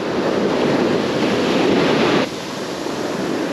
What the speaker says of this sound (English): right along that line just beyond where the waves are dumping onto the beach, where it's stirring up sand